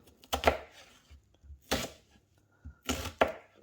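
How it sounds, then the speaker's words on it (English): A knife chops through peeled onion halves on a board, giving a few distinct, sharp thunks spaced about a second apart, each with a brief crunch, in a quiet kitchen. "once you've peeled your onions, chop them up"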